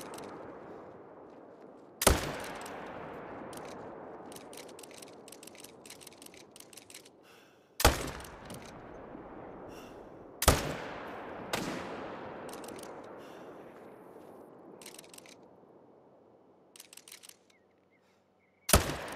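Four loud, sharp hunting rifle shots of .30-06 ring out in theHunter: Call of the Wild, spaced several seconds apart. Each crack is followed by a long echoing decay across open country, with small clicks of reloading in between.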